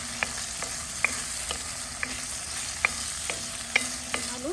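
Potatoes frying in a pan with chilli powder, turmeric and salt: a soft continuous sizzle broken by sharp spoon taps and scrapes against the pan every half second or so, close-up and with no talk.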